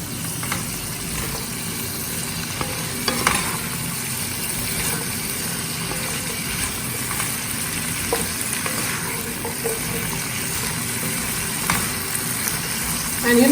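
Green chillies and vegetables fry in a pan for a methi gobi aloo matar sabzi, a steady close sizzle with occasional scraping stirs and light clinks of the spatula throughout.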